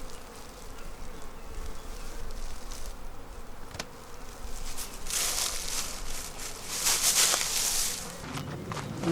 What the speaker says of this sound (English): We have a lot of bees left in this box